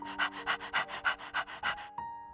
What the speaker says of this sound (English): Out of the fog runs Pup, the dog.